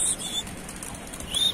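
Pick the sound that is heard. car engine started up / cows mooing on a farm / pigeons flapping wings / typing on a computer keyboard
pigeons flapping wings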